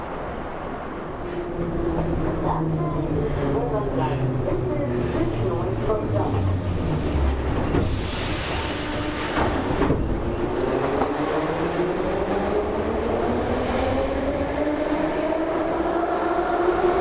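Moscow metro train running between stations, a steady loud rumble with rising and falling motor whine throughout and a brief burst of rushing noise midway.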